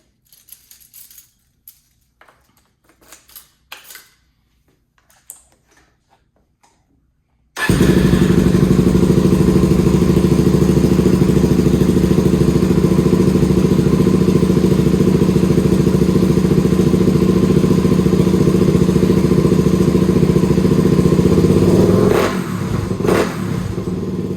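Suzuki DRZ400SM motorcycle fitted with an FCR39 clone carburetor starts after a few faint clicks, then idles loudly and steadily close by before the revs dip near the end.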